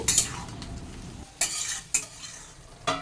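Kundru (ivy gourd) curry with tomato and green chilli paste being stirred in a pan, soft sizzling with a few distinct spoon scrapes and knocks against the pan, close and wordless.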